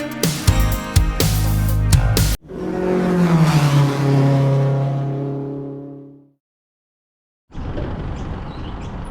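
A car lapping Mount Panorama circuit at Bathurst, loud and close, first a harsh broadband roar, then a long rising engine pass that fades into near silence before distant noise returns.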